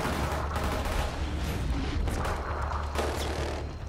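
Gunfire in the PS4 game Killzone Shadow Fall, a dense, continuous barrage of shots and booms filling the whole stretch at high, steady loudness with no talk.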